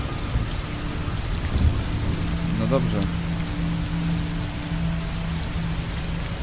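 Rain falls steadily on surfaces in the Heavy Rain video game, a dense, constant hiss with a low rumble beneath it, while someone speaks briefly.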